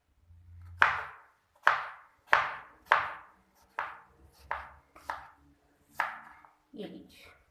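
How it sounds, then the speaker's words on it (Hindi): A knife chops cucumbers into cubes on a cutting board, about nine crisp, evenly spaced thuds at close range, with no speech over the cutting. "कटिंग कर लेंगे खीरों को"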